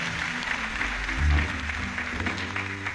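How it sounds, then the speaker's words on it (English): A church congregation claps for Jesus Christ during a prophecy service, producing a sustained burst of crowd applause that swells briefly in the middle and continues steadily to the end. "Clap for Jesus Christ."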